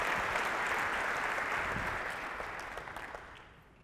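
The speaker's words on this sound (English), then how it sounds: "Let's give them a round of applause." A school district audience applauds two sixth graders, with full, steady clapping that holds briefly and then gradually fades away toward the end.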